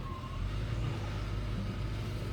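A 2000 Ford F150 with a cylinder-one misfire code settles into idle, giving a steady, close low engine rumble with a constant hum throughout and no voices.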